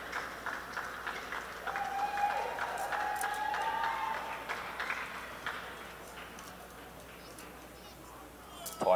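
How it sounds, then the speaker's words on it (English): Scattered applause from Hong Kong's travelling supporters for a substituted player at an Asia Rugby Under-18 girls' sevens match. The clapping is moderate and steady and runs over several seconds under commentary, then fades toward the end. "nice applause for the player being subbed off by the Hong Kong travelling support"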